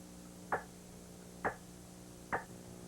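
A voice mimics a gobbler's cluck by popping the tongue off the roof of the mouth: three sharp, evenly spaced pops about a second apart, close and fairly soft over a low background hum.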